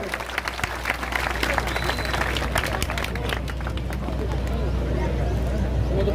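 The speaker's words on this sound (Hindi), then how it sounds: "जोरदार तालियों से स्वागत करें" A large crowd at a gathering held by a former legislator bursts into sustained, dense applause welcoming Bhupinder Singh Hooda, with many hands clapping at once in a steady roar and voices mixed in underneath.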